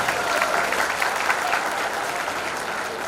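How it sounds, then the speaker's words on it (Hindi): An audience at a company get-together party breaks into loud, sustained clapping, a dense steady applause from a crowd filling the room throughout. "एक बार जोरदार तालियां होनी चाहिए।"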